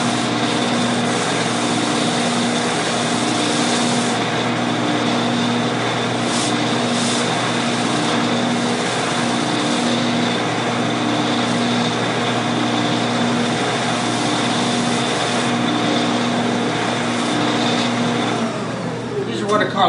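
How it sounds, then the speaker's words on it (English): A motor-driven flutter sheet flap sander hums steadily and loudly while polishing metal finger plane parts, a continuous whirring drone with a constant pitch and slight scraping variations throughout. "These are what are called Flutter Sheets. Or a flap sander would also do."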